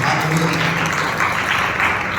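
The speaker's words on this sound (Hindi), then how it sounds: "ताली बजा के परमेश्वर को धन्यवाद।" A church congregation at a Sunday service applauds in thanks to God, a brief dense burst of clapping from many hands that stays steady and fairly loud throughout.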